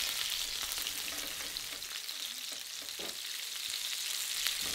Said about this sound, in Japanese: リードヴォーは結構形がバラバラなので、できる限り全面焼くようにしてください。